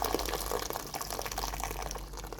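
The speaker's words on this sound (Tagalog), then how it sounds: "lagyan natin ng mainit na tubig guys" Hot water poured into sugar to make a sugar syrup, a steady close splashing and trickling stream that runs continuously without voices.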